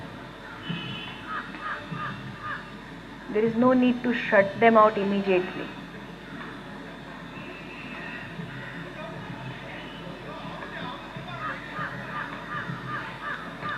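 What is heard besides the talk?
crows cawing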